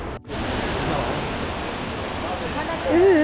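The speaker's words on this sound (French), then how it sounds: "On est au niveau de la cascade." Rushing water from a waterfall, heard from a cruise ship in Singapore, gives a steady, loud broadband roar. A voice briefly rises over it near the end.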